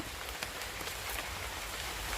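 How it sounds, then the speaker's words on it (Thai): Rain falling outdoors in Wales during a forage for bamboo shoots and wood ear mushrooms, a dense, continuous patter of drops with a few sharper splashes, close and steady throughout. "เบิ่งอากาศฝนตกพี่น้อง ฝนตกจ้า"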